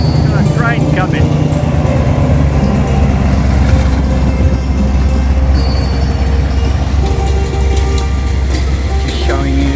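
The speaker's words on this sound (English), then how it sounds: "Got a train coming." A train passes close by on a trip in northern Thailand, a loud steady rumble of railcars with metallic squeals, heard with people's voices in the background throughout.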